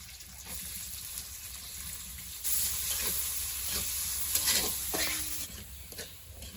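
A spiced tempering hitting hot oil over mashkalai lentil dal cooked with bottle gourd in a village kitchen, a quieter stirring hiss that suddenly swells into a loud, steady sizzle with occasional clinks.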